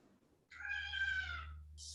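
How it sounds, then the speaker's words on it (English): A house cat meows once at a crow outside, a single drawn-out tonal meow, fairly close and clear against a faint low indoor hum, followed by a brief hiss of noise at the end. "my cat meowed at a crow outside"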